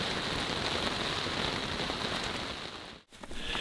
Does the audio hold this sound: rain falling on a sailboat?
yes